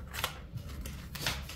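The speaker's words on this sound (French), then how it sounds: "Allez, on va tirer encore une carte là." A tarot card is drawn and shuffled from the deck, giving a few brief papery swishes and flicks close by with no talk.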